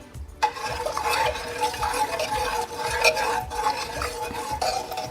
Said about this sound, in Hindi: अब एक बार इस तरह से चम्मच से मैश करते हुए इसको अच्छे से मैश कर लेंगे।